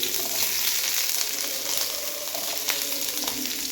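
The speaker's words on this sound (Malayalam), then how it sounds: "സവോളയും ക്യാരറ്റും ബീൻസും നമുക്ക് ഇപ്പം തന്നെ ചേർത്ത് കൊടുക്കാം." Sliced onion, carrot and beans fry in a pan with a steady, close sizzle and a few light clicks of stirring; no one speaks.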